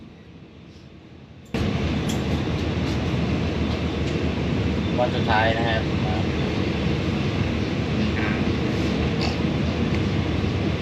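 A train between Phitsanulok and Phichit, Thailand, rumbles steadily along the rails with a broad, continuous roar after a quieter start, and a voice speaks briefly over the noise.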